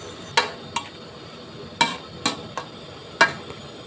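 Metal utensils scrape and clack against a wok in irregular strokes while instant noodles, vegetables and pork liver are stir-fried, close by, with a faint sizzle underneath.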